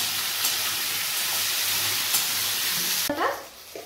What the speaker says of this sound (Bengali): এবার তেলের মধ্যে ক্যাপসিকামটা দিয়ে দিলাম